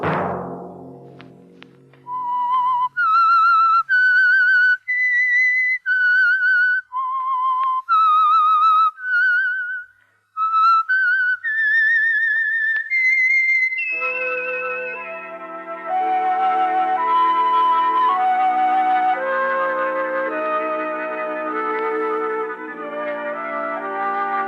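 A whistled tune of clear, sliding notes from a radio mystery program's signature theme, starting alone as a sequence of held pitches, then joined by an orchestral accompaniment that carries on to the end.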